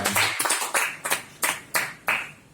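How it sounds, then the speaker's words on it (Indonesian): A church congregation claps for a pastor during a Sunday worship service, heard as a handful of distinct, evenly spaced claps in a steady rhythm, close and moderately loud, with no voices. "Tepuk tangan untuk Pak Peter yang besar hati"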